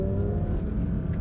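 A Porsche 911 GT3 RS 992 in track mode drives on a winding road, its engine a loud, steady close-up drone heard alone over a brief moment.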